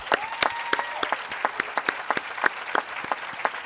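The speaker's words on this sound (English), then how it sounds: "Let's give them a round of applause." Audience applause at a 2021 college commencement ceremony, a steady wash of clapping with sharp individual claps standing out, fairly close and continuous throughout.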